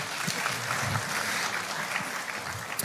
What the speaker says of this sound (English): Let's applaud him one more time